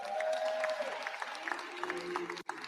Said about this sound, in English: How about a round of applause for George?